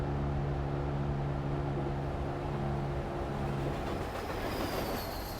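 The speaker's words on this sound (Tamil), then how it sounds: "ட்ரெயின் பக்கத்தில் போகுது பாருங்க." A train rolls past beside the truck in Euro Truck Simulator 2, a steady broad rumble with a low horn-like tone holding for several seconds before fading, no talk over it.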